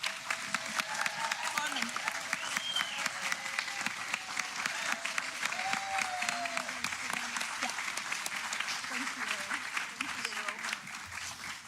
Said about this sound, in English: Please, now you can applaud them